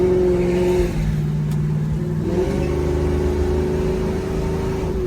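A 1967 Chevrolet Camaro's engine revs and accelerates up close, its loud, steady drone dipping briefly and then climbing again as it pulls.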